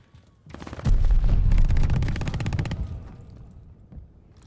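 A PPSh submachine gun fires in Call of Duty: Vanguard. One long, rapid, heavy automatic burst is heard up close, then it fades into quieter game ambience.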